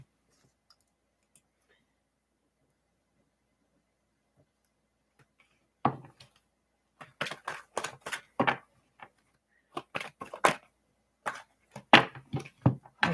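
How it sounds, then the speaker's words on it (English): A deck of tarot reading cards is shuffled close up after about six seconds of near silence, a series of soft irregular riffling snaps and flicks in short bursts, quiet and alone. "Let me shuffle the cards a little bit,"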